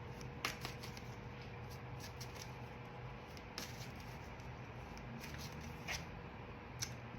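Tarot cards are handled and shuffled in a quiet room, soft scattered riffles and faint clicks over a low steady hiss.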